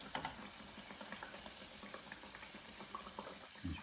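Bacon-wrapped chicken sizzles in a Power XL cooker, a soft continuous frying hiss with light clicks and bumps as the pieces are turned, no voices.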